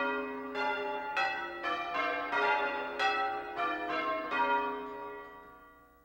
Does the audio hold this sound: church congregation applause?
no